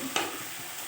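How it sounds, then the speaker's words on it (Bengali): Tender leafy greens stirred with spices in a frying pan, a brief scrape of the spatula over a soft steady sizzle, close and fairly quiet. "শাকটা এর মধ্যে দিয়ে ভালোভাবে নেড়ে চেড়ে মিশিয়ে নিয়েছি মশলার সঙ্গে"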